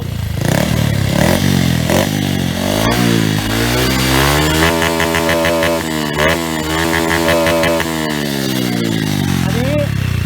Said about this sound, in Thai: อันนี้ก็เป็นคลิปเสียงท่อเมื่อกี้นะครับ ที่บอกแกให้ฟังนะครับ จะลองเบิ้ลดูว่านครับเบิ้ลเบา